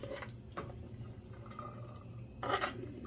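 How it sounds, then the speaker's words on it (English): Onions tipped into a pan of hot olive oil and butter for sautéing, giving soft scraping and light clatter over a low background hum, with a brief louder rustle near the end. "you're gonna go ahead up and saute up your onions"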